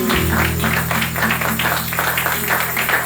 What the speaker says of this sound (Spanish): ¿Quién le puede dar un aplauso fuerte al Señor Jesús?